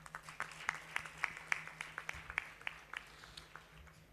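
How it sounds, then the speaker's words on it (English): A graduation convocation crowd at a Bengaluru campus gives scattered applause, with distinct individual claps in an irregular rhythm, faint and distant over a low steady hum. "You deserve a big round of applause."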